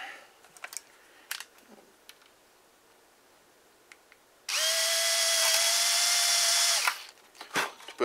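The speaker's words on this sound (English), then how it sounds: "I am going to drill my hole in the top of this" A power drill whines steadily for about two seconds at close range, drilling a hole in the top of a model airplane build, preceded and followed by scattered clicks and handling knocks.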